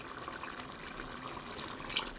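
A little water is poured into a cooking pot as a faint, steady splashing trickle lasting about two seconds, with nothing else heard.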